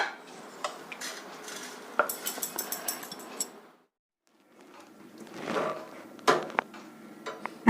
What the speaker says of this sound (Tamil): இதை ஒரு பவுலுக்கு மாற்றிக்கலாம்.